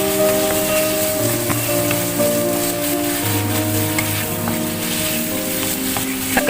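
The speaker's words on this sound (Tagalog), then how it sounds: "1 tablespoon of vegetable oil, at stir fry natin yung ating marinated chicken thigh." Marinated chicken thigh stir-frying in a tablespoon of vegetable oil, a loud, steady sizzle with scattered crackles and pops, close by and without talk.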